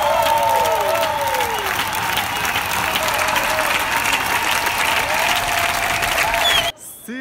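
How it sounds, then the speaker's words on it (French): A theatre audience applauds after the final of Mount Olympus, a dense, sustained clapping that runs loud and unbroken before cutting off abruptly near the end. "Ça n'arrête pas d'applaudir, là je pense qu'il y a encore des gens qui applaudissent"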